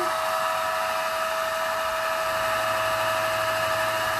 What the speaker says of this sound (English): I'll put my blow dryer on.